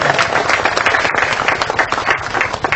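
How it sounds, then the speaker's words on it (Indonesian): An audience at a community event claps in a continuous, dense patter of applause, fairly loud and unbroken throughout with no clear voice on top. "Tepuk tangan untuk Korem Bangka."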